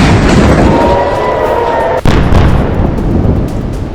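Explosions from Israeli bombing in Lebanon, a loud, continuous rumbling roar with a sharp sudden crack midway, followed by more heavy low rumble.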